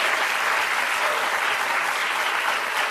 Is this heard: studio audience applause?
yes